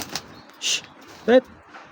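Racing pigeons of a foreign bloodline, heard in a few short, separate bursts of cooing and wing flutter close by, with quiet gaps between them and faint background murmur.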